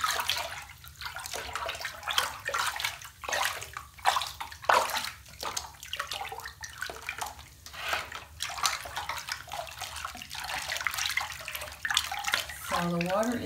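Bath water sloshing and splashing as a bath bomb is mixed in by hand, a continuous irregular swishing close by with rhythmic stirring surges, faint overall.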